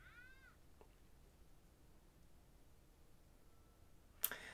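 A cat in the anime film Kiki's Delivery Service gives a short, high meow at the start, then near silence, followed by a sudden sharp burst near the end.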